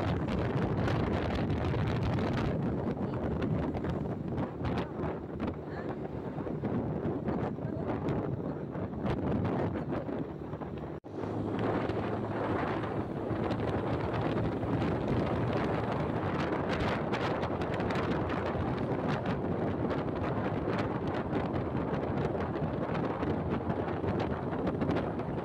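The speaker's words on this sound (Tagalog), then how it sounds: "Sobrang kapal ng fog at ang sobrang lamig ng simoy ng hangin." Heavy, continuous wind buffeting a microphone on a motorcycle ride in thick fog, a dense low roar with rustling that persists throughout, briefly dipping around the middle.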